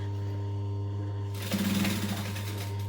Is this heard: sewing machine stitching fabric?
yes